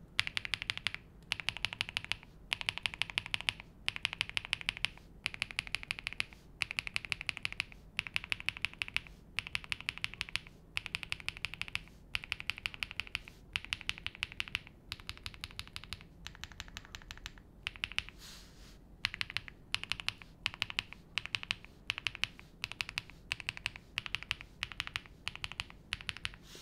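Typing on a Zoom98 mechanical keyboard with Swift switches: quiet, even key clacks in quick rhythmic bursts separated by short pauses, close and alone with no talking.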